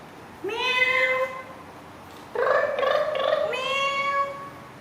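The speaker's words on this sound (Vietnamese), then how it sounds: "Mèo." A kitten gives two drawn-out, high meows close by, the second wavering and broken into several rising and falling parts, with no talking over them.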